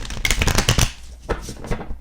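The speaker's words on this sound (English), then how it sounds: "But you can still shuffle them." Tarot cards from a gothic tarot deck being shuffled by hand, a close, crisp riffle of flicking card edges in quick bursts, then a few softer slides.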